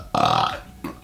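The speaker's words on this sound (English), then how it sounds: "I didn't burp in your face" A loud, close burp of about half a second rings out, followed by a short second belch after a brief pause.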